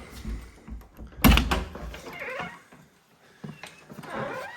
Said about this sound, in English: So if we go back out the front door